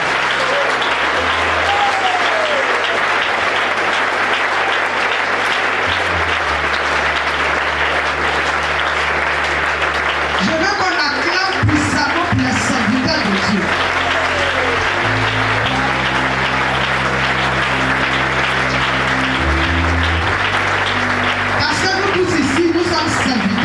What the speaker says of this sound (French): je voudrais qu'on acclame spécialement pour les serviteurs de Dieu